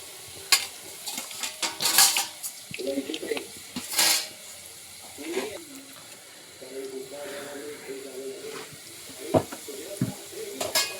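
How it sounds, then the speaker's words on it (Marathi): Cabbage manchurian balls frying in hot oil, a soft steady sizzle with occasional stirring clinks and scrapes of a utensil against the pan, close by, with a person talking intermittently over it. "छान असं मंचुरियन तळायचं काम चालू आहे"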